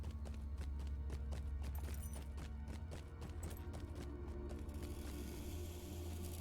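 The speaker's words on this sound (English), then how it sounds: "I happen to have a goat here that I like to ride around." A goat mount trots in Lord of the Rings Online, its hooves clopping in a quick, even rhythm over a steady low background hum, faint and continuous throughout.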